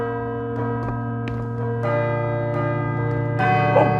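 Tolling bell in the Call of Cthulhu: Dark Corners of the Earth video game, a steady sustained ring with rich harmonic overtones, a few soft clanks over it and a louder strike near the end.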